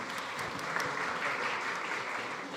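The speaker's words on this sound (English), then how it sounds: "You can clap." An audience at a food summit claps together in a sustained, fairly distant round of applause that holds steady throughout.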